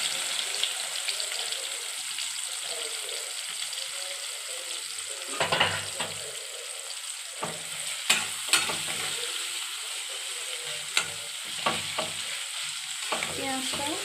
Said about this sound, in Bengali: এর মধ্যে আমি পেঁয়াজ দিয়ে দেবো।